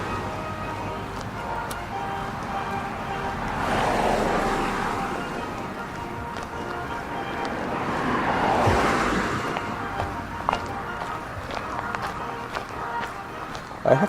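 Road traffic on a roadside stretch of a hike, with vehicles swelling past in two broad waves a few seconds apart amid steady outdoor noise, heard alone with no talk.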